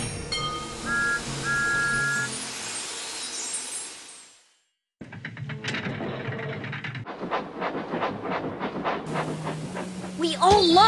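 A small Thomas & Friends Magic Traks toy train clatters along its track with a rhythmic clicking, and a whistle toots near the end; people talk over it.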